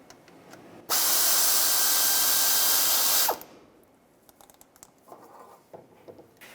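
A power tool spins a 10mm socket to remove a bolt from the power steering pump of a 2008-2017 Buick Enclave, a loud steady whir lasting about two and a half seconds, followed by quiet clicks and handling noises.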